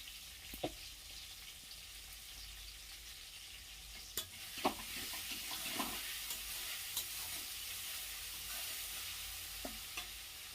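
Tomato spice paste frying with salt and turmeric stirred in, giving a steady close sizzle and hiss broken by occasional scraping clicks from the spoon, with no one talking.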